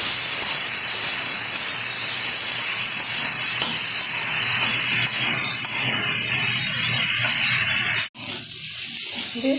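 Cauliflower stems and potatoes frying in a pan as they are stirred, giving a steady loud hiss that runs almost throughout and cuts off briefly near the end.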